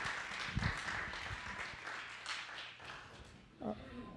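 An audience claps to welcome presenters at an indoor lunchtime talk on backyard birds: steady, fairly faint applause lasting a few seconds with a couple of louder claps and some murmuring.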